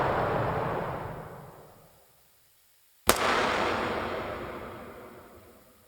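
A single loud, sharp gunshot cracks out after a fading rumble and a moment of silence, followed by a long echoing tail.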